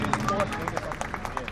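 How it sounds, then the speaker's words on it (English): A crowd at a Singapore Police Force show clapping for a volunteer, a short burst of scattered hand claps with murmuring voices around it. "Ladies, round of applause for Brandon here."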